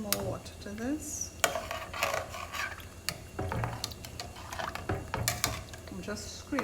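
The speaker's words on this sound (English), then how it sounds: "I'm just scraping the bottom to get out all that ground bits." A utensil scraping the bottom of a pot of oxtail soup made with beef tailbone, giving repeated close scratches and clinks at an uneven rhythm, with a voice talking over them.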